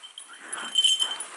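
A dog whimpers in thin, high, wavering whines, brief and close, rising in the middle before fading.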